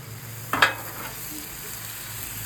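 Chicken stir fry stirred on a Blackstone griddle: a low, steady sizzle with a couple of brief scraping clacks from the spatula, no talking.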